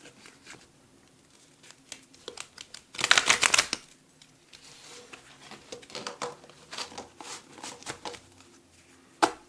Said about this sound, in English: I'll shuffle a couple times, but I do shuffle ahead of time.